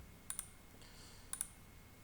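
Computer mouse clicks on a software OK button, a few faint, sharp clicks in pairs and singles against quiet background hiss.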